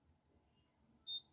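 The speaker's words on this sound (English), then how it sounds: "Double beep. Open up and release." A Conair Infiniti Pro hair curler gives a short, clear electronic beep near the end of an otherwise quiet moment, close and distinct over faint room noise.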